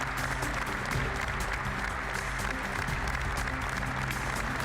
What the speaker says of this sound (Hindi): इसके साथ संसद में करीब 1 मिनट तक तालियां बजती रहीं।